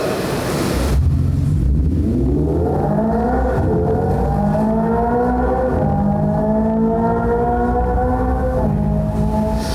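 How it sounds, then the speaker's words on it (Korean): Synthetic high-performance engine sound from a Hyundai Ioniq 5 N electric car, modeled on the Veloster N and Avante N, starting up and then revving steadily upward in a loud, continuous rising drone with clear stepped harmonics. "이그니션 사운드는 리얼한 고성능 엔진 사운드로 당사의 벨로스터 N, 아반떼 N 사운드를 계승하고 있습니다."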